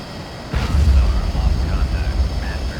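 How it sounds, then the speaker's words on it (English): A submarine-launched missile firing in the naval game Cold Waters: a sudden loud booming roar that swells and rumbles on for a couple of seconds. "Missile is away."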